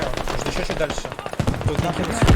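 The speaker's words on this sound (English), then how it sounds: "A lot of opening fire right now." Sustained gunfire echoes across a large Squad match between competitive teams, with clusters of rapid automatic bursts and sharp single reports at varying distances, overlapping and uneven, growing heavier and closer toward the end.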